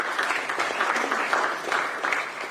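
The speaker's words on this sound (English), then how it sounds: "Please give them a round of applause" A round of audience applause at a conservation agriculture panel, steady and dense throughout with many hands clapping at once, moderately loud, and no voices standing out above it.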